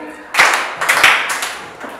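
A short burst of applause from a small group, several hands clapping for about a second and a half.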